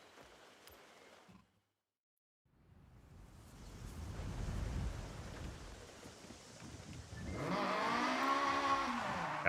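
Honda Civic engine revving with tire noise in the racing game Forza Horizon 6, a brief fade to near silence followed by a rising engine drone that swells louder with whining tones toward the end.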